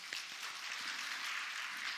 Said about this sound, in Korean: 우리 친구들, 우리 격려의 박수 한번 하겠습니다.